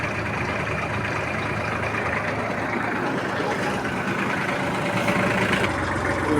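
A Kubota GL-35 mini tractor engine runs steadily at raised revs, a loud and continuous close-up drone, while someone talks over it.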